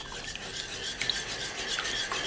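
A whisk scraping and stirring orange sponge cake batter in a bowl, a steady soft rasping swish that repeats close by with no voices.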